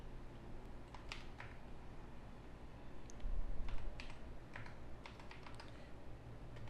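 Someone types on a computer keyboard while entering an IP address into network settings, producing scattered, fairly quiet key clicks in short bursts with pauses between them. No one speaks.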